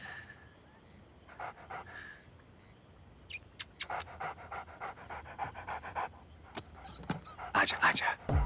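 A dog pants in quick, rhythmic breaths close by, mixed with brief clicks and rustles, while someone speaks to it in short coaxing phrases.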